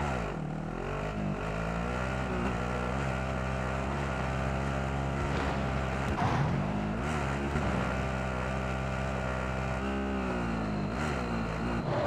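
A vehicle driven in Call of Duty: Modern Warfare Warzone battle royale gives a steady, loud engine drone that holds throughout, with its pitch shifting slightly as it moves and no talk over it.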